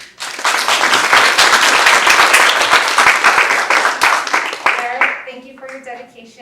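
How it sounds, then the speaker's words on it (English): Sustained crowd applause at a nursing pinning ceremony, loud, dense clapping that swells for several seconds and then tapers off, with a voice briefly audible as it fades. "Please give a round of applause for our historian and communication director, Eric Ward."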